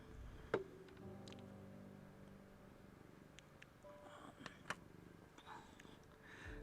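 A cat purrs faintly and steadily at low volume, a soft continuous rumble with a few sharp ticks and light background noise over it.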